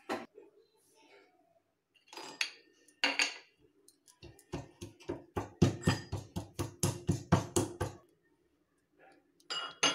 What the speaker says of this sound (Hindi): मैं डालूंगी काजू, बादाम, इसको मैं दरदरा कूट लूंगी